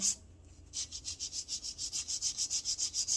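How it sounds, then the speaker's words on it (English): A 100 grit file rubs rapidly across acrylic nails, a close, rhythmic scratching of about fifteen quick even strokes after a short pause, with no talk. "Let's file on the side, on the bottom."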